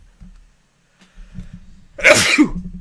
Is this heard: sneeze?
yes